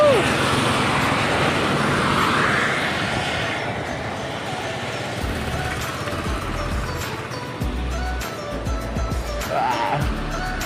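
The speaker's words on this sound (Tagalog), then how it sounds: "I'm here in Kasal Highway" Steady roadway traffic on Kasal Highway in Tagum City, loud and continuous with cars and larger vehicles passing close by, engine rumble swelling and fading, and a voice briefly heard over the roar.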